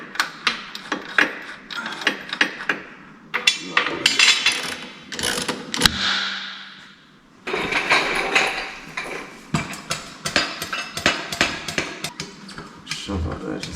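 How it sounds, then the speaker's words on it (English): Work on a BMW E53 X5 rear shock absorber sees a tool loosening its 21mm bottom bolts, giving rapid ratchet clicks and sharp metallic knocks in repeated close bursts with short pauses between. "we're going to start with removing these bottom bolts. Sorry, they are a 21mm."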